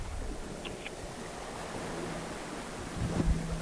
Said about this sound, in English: it's fucking cold and windy out here